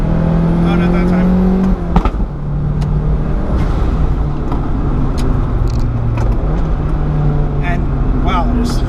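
A turbocharged project car accelerates with engine drone rising and shifting through gears as the turbo spools up, loud and close, with a sharp pop or shift break early on.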